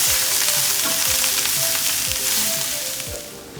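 Vegetables with salt sizzle steadily in a hot pan, a dense continuous frying hiss with occasional stirring scrapes and clinks, close and fairly loud, with no voices.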